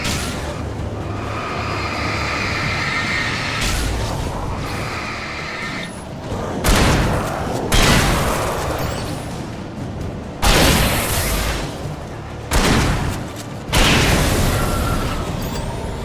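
Gunfire in the video game Alan Wake Remastered on PS5: several loud, booming shots at irregular intervals, each ringing out over a constant rumbling background of game ambience.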